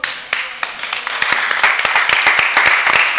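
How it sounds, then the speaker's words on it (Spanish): Clapping from a church congregation standing to applaud, beginning with a few sharp separate claps and quickly building into a close, lively applause of many hands. "denle un aplauso al Señor"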